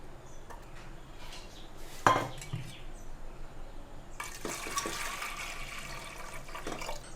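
Water pours into a pressure cooker holding chickpeas in a home kitchen. A metallic clatter comes first, then a louder, steady rush of poured water for the last few seconds, with no talking.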